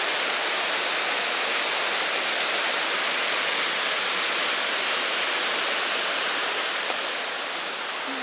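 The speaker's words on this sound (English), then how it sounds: "Probably a cascade waterfall." A cascading waterfall on the Foothills Trail roars as a loud, continuous broadband rush of falling water, steady and close throughout with no voices.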